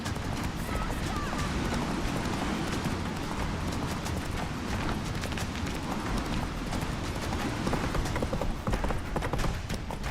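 Hooves of the horse Roach pound in a fast galloping rhythm in The Witcher 3, steady clip-clop over rushing ambient sound, with brief game voices mixed in.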